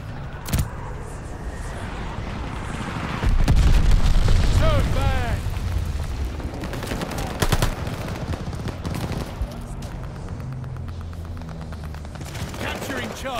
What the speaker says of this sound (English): I called in the bomb at the wrong place.